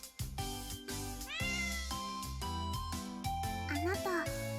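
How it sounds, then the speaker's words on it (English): A cat meows in the video game Amatarasu Riddle Star, with short high mewing calls over layered game music and chimes, fairly close and clear. "So Kokoro was squatting next to a cat and giving it milk."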